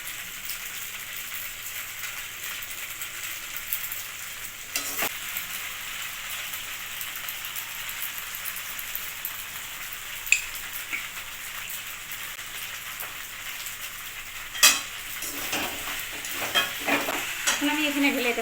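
Pasta fries in a pan for a chicken masala recipe and is stirred, giving a continuous, even sizzle. Occasional scrapes and utensil knocks rise above it, and no one speaks.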